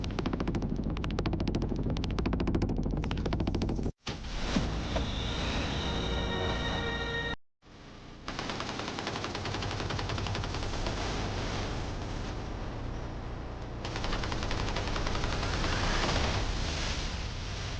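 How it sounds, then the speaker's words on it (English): Rapid automatic gunfire from a video game, loud and nearly continuous, with two brief breaks in the barrage around the fourth and seventh seconds before the dense firing resumes. "Keep firing! It's only a waste of ammo!"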